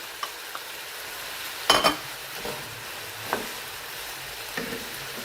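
Squash is stirred and fried with vermicelli in a pan over high heat: a steady sizzle with scattered scrapes and clinks, one louder clatter near the middle, and no talk.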